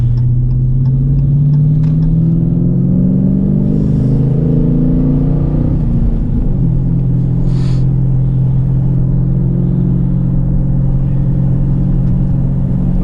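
A Dodge Challenger 392 R/T Scat Pack with a 6.4L V8, Diablo Sport tune, modified PCM, BBK 85 mm throttle body and modified exhaust revs up loudly, a deep rumbling blip that climbs and falls, then settles into a steady throaty idle.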